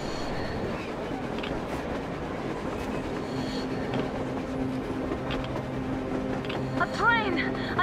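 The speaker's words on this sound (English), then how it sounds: "A train! A damn train on the surface!" In the video game Metro Exodus, a train rolls along on the surface, its faint clattering rumble carrying under background game sounds and a short whistling or squealing burst near the end.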